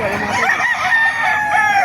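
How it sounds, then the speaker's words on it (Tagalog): Chickens cluck and a rooster crows loudly nearby at a poultry market in Bocaue, Bulacan, Philippines, the calls overlapping in a busy, continuous poultry chorus. "Ang ganda ng mga manok."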